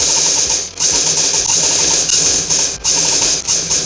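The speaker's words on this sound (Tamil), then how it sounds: "இந்த லைன் மேலேயே இந்த மடிப்பை வச்சு தைச்சிட்டே வரலாம்." Sewing machine running steadily while stitching a folded hem on a nightie, a continuous close mechanical whir with rapid needle ticking and a couple of brief pauses.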